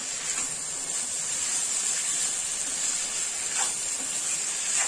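Cauliflower and tomato roast on a high flame, giving a steady, even sizzling hiss throughout, with no talk over it.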